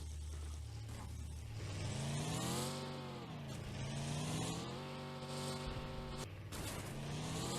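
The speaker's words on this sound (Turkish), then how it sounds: "şu anda bir arkadaşımızla beraber aynı araca bindik" A vehicle drives in PUBG Mobile with a continuous engine drone that rises and falls as it revs and shifts. It stays close and fairly loud, with no talking.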